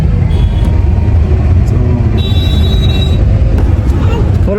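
Heavy road traffic in Bangalore gives a loud, close, continuous rumble of engines with some higher mechanical whine and faint horn-like tones.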